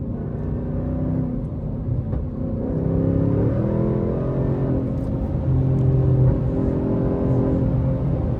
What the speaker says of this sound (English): the car is running with these new tires, though